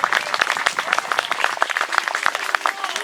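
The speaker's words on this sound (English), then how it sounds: "One more round of applause, folks." An outdoor crowd at a historical battle reenactment of the Siege of Old Fort Erie claps for the performers, sharp overlapping hand claps forming a brisk, steady round of applause at moderate distance.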